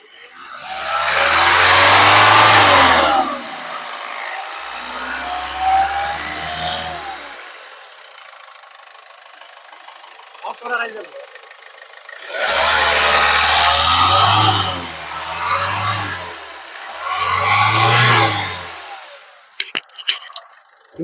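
A Ford EcoSport Titanium Plus diesel engine is revved in loud bursts: one long rise and fall, a quieter idle stretch, then a longer rev followed by two or three quick blips, heard close with no talking.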